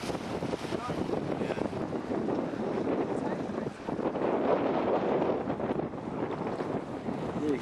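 A strong gust of wind sweeps over a sailing boat on a broad, roaring into the microphone as steady buffeting wind noise with water sounds beneath, swelling and easing across the stretch.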